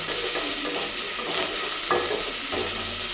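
Finely chopped green chillies tossed into frying vegetable rice, a loud, steady sizzle with a few stirring scrapes close up, no talking.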